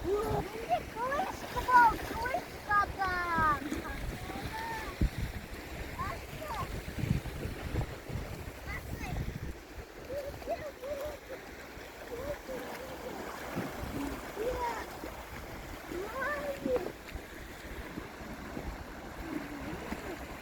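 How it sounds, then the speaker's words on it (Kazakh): Strong wind buffets the microphone on the Aktau seashore while sea waves wash and splash steadily beneath it. Voices talk faintly through the roar, which stays loud and continuous throughout. "Теңіздің жағасында күшті жел болып тұр."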